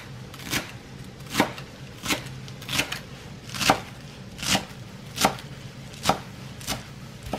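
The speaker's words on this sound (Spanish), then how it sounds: "Enseguida vamos a estar picando el cilantro." Fresh cilantro chopped with a knife on a cutting board for a potato and panela cheese soup, steady sharp chops roughly every three-quarters of a second, close and crisp with no talk.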